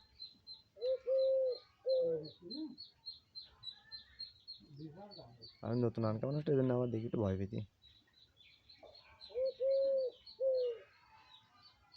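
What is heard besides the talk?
doves cooing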